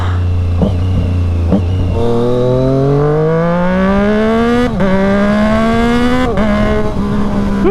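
A Triumph Street Triple RS naked motorcycle engine drones loudly and steadily while riding, its pitch climbing through the gears with brief dips at each shift, close up and with no talking.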